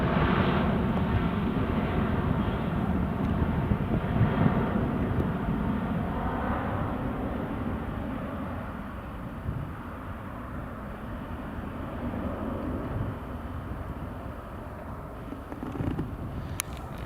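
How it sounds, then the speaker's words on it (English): An EasyJet airliner on approach to Newcastle Airport gives a steady, broad engine roar that holds fairly loud throughout and eases slightly toward the end, with no talk over it. "EasyJet's just coming in on the approach there now"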